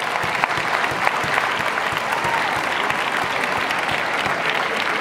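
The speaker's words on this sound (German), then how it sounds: "Nochmal einen lauteren Applaus, finde ich." Convention stage crowd at AniNite 2016 giving a renewed round of applause for performers: a full, continuous wash of clapping at even loudness throughout, without talk over it.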